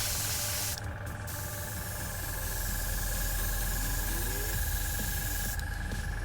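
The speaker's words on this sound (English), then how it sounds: "How is this old school airbrushing?" An airbrush sprays paint with a steady, unbroken hiss from start to finish, close by and fairly even in loudness, with no talking.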